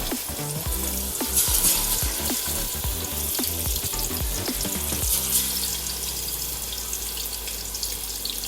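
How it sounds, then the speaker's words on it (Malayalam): Marinated chicken fries in hot oil inside a pressure cooker, giving a loud, steady sizzle up close with scattered clicks and scrapes of stirring. "ഇതിനകത്ത് തന്നെ ഞാൻ ചിക്കൻ ജസ്റ്റ് ഒന്ന് ഫ്രൈ ചെയ്തെടുക്കുന്നുണ്ട്."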